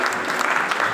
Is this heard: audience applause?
yes